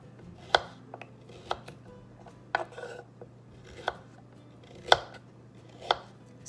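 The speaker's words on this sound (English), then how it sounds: "So I'm gonna keep cutting away here" A knife chops through fresh carrots on a cutting board in a kitchen, giving seven distinct, sharp cuts at irregular intervals of roughly a second, close and clear against a quiet background hum.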